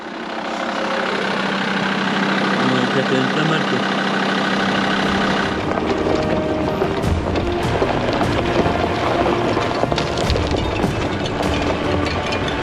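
A van engine idling on a high mountain road along the Pamir Highway, a steady loud rumbling drone throughout with brief speech over it.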